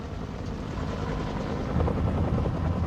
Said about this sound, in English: The flight crews of these early forces were equipped with dozens of Piasecki H-21 Shawnee transport helicopters